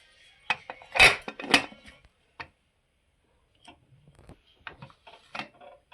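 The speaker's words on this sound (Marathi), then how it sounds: "असं झाकण लावून घ्यायचं मस्तपैकी" A few sharp metallic clanks and taps as a lid is set onto a metal pressure cooker holding rice and water, followed by lighter clicks.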